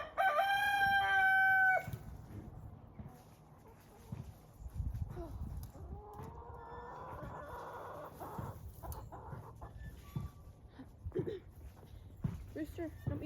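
A rooster crows loudly and close by in one long call at the start, followed by quieter outdoor sounds and scattered soft clucks.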